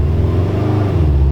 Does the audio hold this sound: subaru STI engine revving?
yes